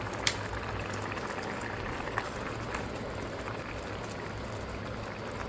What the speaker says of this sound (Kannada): ಸ್ಟವ್ ಅಲ್ಲ, ಕೆಟಲ್ನ ಆಫ್ ಮಾಡೋಣ.